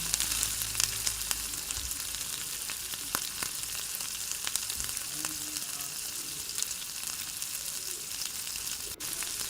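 Chopped green chilies and cumin frying in hot oil produce a bright, steady sizzle peppered with sharp crackles and pops, fairly close and without talk.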